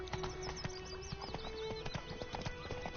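Roach the horse gallops through The Witcher game world with a steady, close clip-clop of hooves, a whinny rising over the rhythm and bright game sounds layered beneath.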